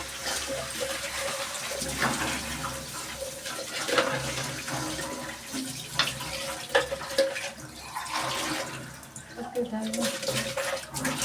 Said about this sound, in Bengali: আর দিয়ে দেবো জল